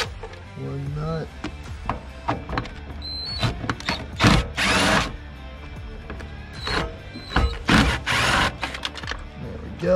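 Ratchet with a 10 mm socket working the battery nut on a Miata, a series of close clicking bursts and metallic rattles in short irregular runs, with a few louder clanks.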